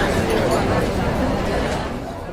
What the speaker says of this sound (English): maybe you're a busy cafe kind of guy